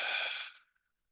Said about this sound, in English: just breathe out through the mouth.